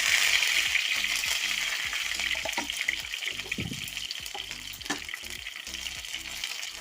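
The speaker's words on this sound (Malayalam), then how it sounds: "കടുക് പൊട്ടി വരുമ്പോഴേക്കും ഒരു 2 കറിവേപ്പില ഇവിടെ ഇടാം" Mustard seeds and curry leaves sizzle in hot oil for chicken perattu, a steady bright crackling hiss with small popping bursts and a few stirring knocks, close and continuous with no talking.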